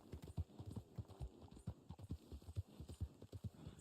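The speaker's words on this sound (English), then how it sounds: "This is the Black Arabian horse." Hooves of a Black Arabian horse clip-clop in the Red Dead Online video game, a steady rhythmic trot of soft thuds heard fairly quietly and alone throughout.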